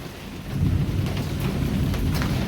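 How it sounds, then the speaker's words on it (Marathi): Heavy rain pours down in a dense, steady roar over a Konkan village, with a low rumble of thunder underneath, swelling suddenly early on and continuing without any voices. "अचानक आला पाऊस"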